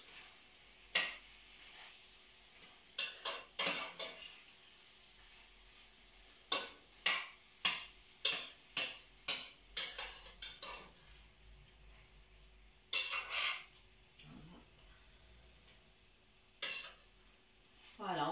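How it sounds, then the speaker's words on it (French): Veal kidneys stirred in a pan with a utensil, giving a run of sharp clinks and scrapes in uneven bursts with quiet gaps between them. A background sizzle sits underneath, and someone speaks French between the stirring. "je commence à remuer déjà"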